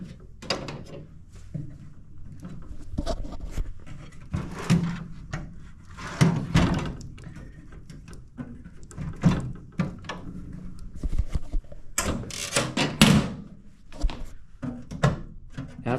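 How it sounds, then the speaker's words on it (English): Drawers on a U.S. General 30-inch 4-drawer steel tool cart slide shut in a series of loud, close knocks and clunks at irregular intervals, with metallic rattles between the impacts and no talking. "So you gotta make sure everything's shut."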